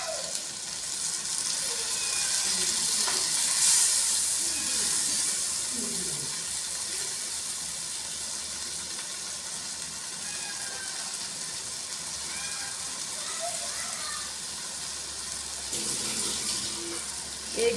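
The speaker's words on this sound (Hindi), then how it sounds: "1 गिलास अब पानी डालेंगे इसमें।" Steady hiss and sizzle of a glass of water poured into a hot pan of frying chicken, potatoes and spinach, fairly quiet and continuous, with faint clinks and a voice now and then.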